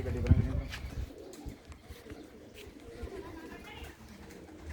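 Pigeons coo in a loft among flying birds, a brief burst of cooing near the start followed by softer scattered coos and rustling, with people talking nearby.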